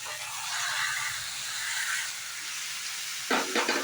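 Tomatoes are added to onions already sautéing in oil, giving a steady, close frying hiss throughout with a brief louder sizzle near the end. No talking.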